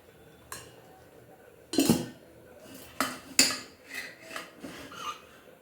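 Metal pot and lid clatter in a handful of sharp knocks and scrapes, with a soft wet rasp of water draining from cooked rice between them, close by and without speech.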